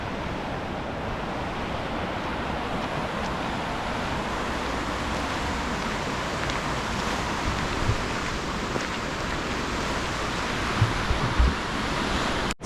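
Rushing water near D'arcy and Nairn Falls in British Columbia, a steady broadband roar that holds unbroken throughout with a few faint knocks, and no voices.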